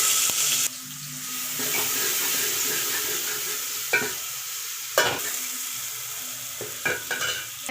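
Onion sizzles in hot oil with mustard seeds, curry leaves, green chilli, asafoetida and garlic for a vegetable sambar. A steady frying hiss is broken by several clanks and scrapes from the stirring spoon, with no voices.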